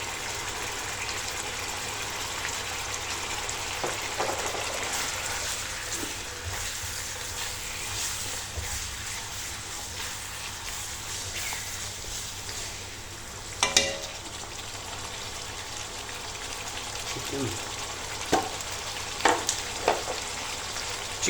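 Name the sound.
stir-frying vegetables and noodles on high flame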